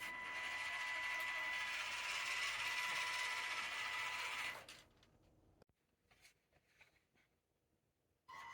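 A metal gearbox driven by a 370 brushed motor in a WPL B36-3 RC truck runs with a steady high mechanical whine and gear noise for about four seconds, then stops. Faint ticks and handling sounds follow.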